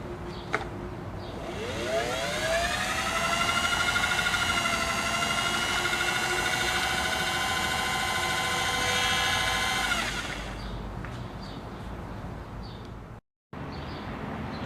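A Singer 404 sewing machine winds a bobbin with a steady mechanical whir that rises in pitch as it spins up, holds for several seconds, then slows and stops, followed by a few light clicks.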